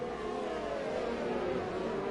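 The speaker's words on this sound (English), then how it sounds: "Gotta love the sound of that Ferrari though." A Ferrari race car in a racing game holds a steady, high, buzzing engine note through a chicane, fairly quiet and constant with no talk.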